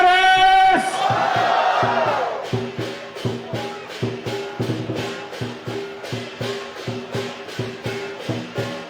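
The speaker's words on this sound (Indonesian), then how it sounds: "Ayo berikan sorakan yang gemuruh." Large political rally crowd in Keningau, Sabah, starting with a loud roaring cheer, then settling into a rhythmic chant shouted in steady repeated beats, with amplified voices and reverberation across an open venue.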